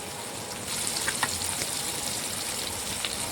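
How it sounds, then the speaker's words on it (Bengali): Onions fry in oil for biryani in a steady, close hiss and crackle that swells after a brief quieter start, with no one speaking. "এখন আমি পেঁয়াজের বেরেস্তা ভেজে নেব ওই তেলের মধ্যেই।"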